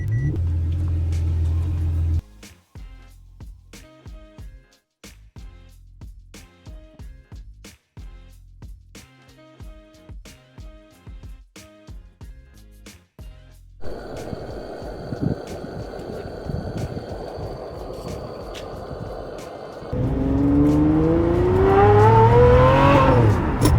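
A V12 599 drives in a steady rhythm with low engine rumble and gear pulses, then accelerates hard into a louder roar with its pitch climbing near the end.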